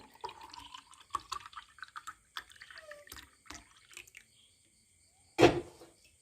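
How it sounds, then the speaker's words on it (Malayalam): Grape juice is poured into a serving glass in a few short trickling bursts with faint drips between them, ending in one louder splashy pour near the end; no one speaks. "നമുക്കൊരു സെർവിങ് ഗ്ലാസ്സിലേക്ക് ഇതൊന്ന് മാറ്റി കൊടുക്കാം"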